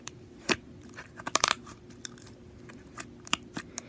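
Homemade lotion slime is squished by hand, giving off scattered soft clicks and sharp little pops, some in quick clusters, close and fairly quiet.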